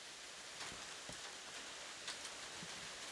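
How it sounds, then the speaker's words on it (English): Rain falling outside in Paris, a steady soft hiss of drops spread across the whole clip, faint and fairly distant, with a few slightly louder patters now and then and no talk over it. "Do you guys hear that rain?"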